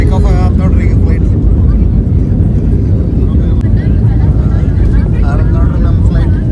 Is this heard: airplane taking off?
yes